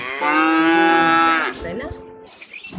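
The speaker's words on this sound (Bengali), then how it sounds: "গরুর ডাক" A cow lets out one long, loud, deep moo that holds steady for over a second before trailing off into softer lowing. A voice speaks briefly near the end.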